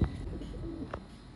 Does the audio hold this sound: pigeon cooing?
yes